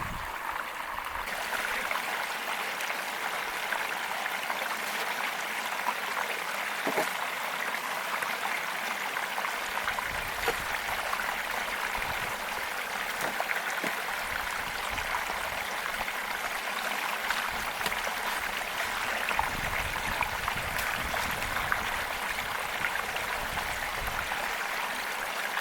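Water flows steadily through a silicone sluice box while dirt is being run, a continuous moderate rushing and trickling wash outdoors with no talk.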